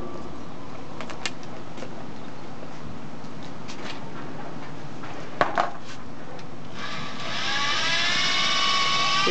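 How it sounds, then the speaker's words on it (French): Colorant being mixed into Dymeric resin: a steady churning whir runs throughout, with a few sharp clinks against the container, and the whir grows louder and brighter toward the end, all close by and without voices. "Et on mélange jusqu'à ce que la couleur soit bien incorporée au mélange."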